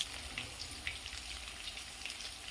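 Pennywort leaves frying in a pan with tomato, onion and coriander, a soft, fairly quiet sizzle with faint crackles and light pops scattered throughout, no voices.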